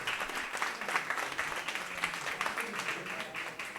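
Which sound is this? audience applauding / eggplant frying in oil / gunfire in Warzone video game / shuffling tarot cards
audience applauding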